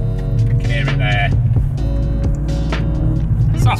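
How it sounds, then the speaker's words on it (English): Exhaust note of a Mountune Fiesta ST180 driven above 3000 rpm, heard from inside the car as a steady low engine rumble beneath people talking. "You get a little bit of exhaust noise when you get over 3000 rpm"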